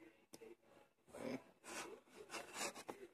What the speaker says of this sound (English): we'll see when I screw in these leads